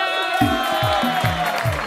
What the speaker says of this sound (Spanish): Un aplauso, por favor, para Nelly.